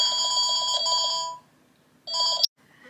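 A telephone rings indoors with a loud, repeated electronic trill, two bursts separated by a short silence, the second cut off abruptly as it is answered.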